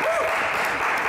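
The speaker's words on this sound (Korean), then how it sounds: "박수로 맞으시길 바랍니다." An audience gives a short burst of steady, dense applause, with a voice briefly audible over it.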